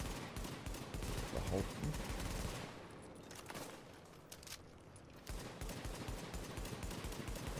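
Bursts of rapid gunfire in the video game The Division crackle through the first few seconds, then ease into a quieter stretch before more shooting returns, with a voice talking briefly over it.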